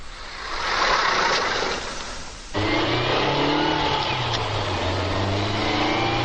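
A car drives along with a steady engine drone and road roar from inside the cabin. The engine note shifts partway through as if changing gear, and it goes on continuously with no talk.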